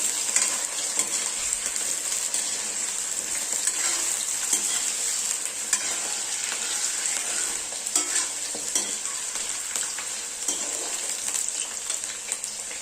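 Potatoes sizzle and crackle steadily in hot oil in a pan for an Assamese-style duck curry, with occasional stirring scrapes, close and continuous throughout.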